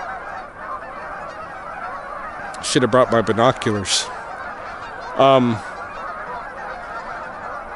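Several geese honk in a quick cluster, then one more honk follows a moment later, carrying over steady outdoor noise while someone talks.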